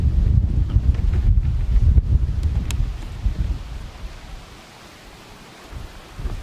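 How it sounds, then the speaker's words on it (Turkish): Strong wind gusts buffet the microphone outdoors near a village, loud low rumbling bursts in the opening seconds that ease into a softer, steadier blowing with a small swell at the end. "Şu anda görüyorsunuz rüzgar ters esiyor."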